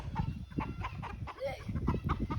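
Several chickens cluck and murmur nearby in short, scattered bursts, with a faint squawk partway through, no talking.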